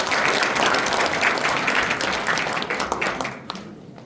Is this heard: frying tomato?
no